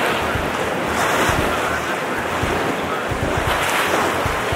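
Waves on Lake Michigan lap and wash steadily against the end of Navy Pier, with heavy wind buffeting the microphone throughout and no speech.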